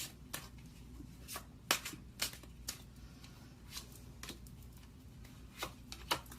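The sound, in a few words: tarot cards being shuffled and drawn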